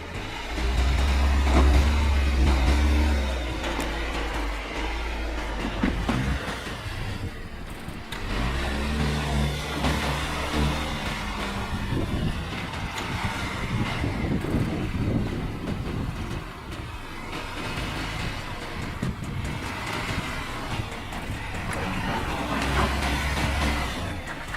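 An Audi Q8, BMW X5 or Mercedes GLE SUV rolls back and climbs over an obstacle on an off-road test course, its engine droning and revving in steady surges with mechanical rumble throughout.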